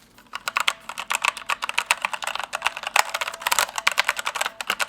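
Typing on a gaming computer keyboard with a regular cable, rapid clattering keystrokes in uneven bursts, close and loud, with no voices.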